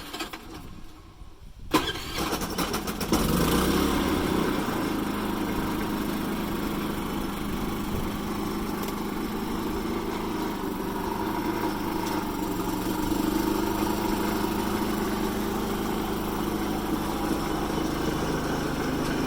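A Predator 3500 generator is cranked and catches after about two seconds, then runs at a steady, loud, even drone under electrical load for the rest of the clip, with no voices.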